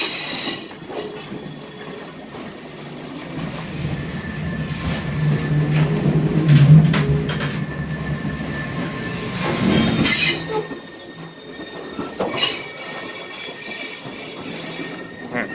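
Coach of the Lumberjack Steam Train in Laona, Wisconsin pulling in, wheels squealing and grinding on the rails with rumbling and clacking, loud and close from the car, swelling midway then easing off.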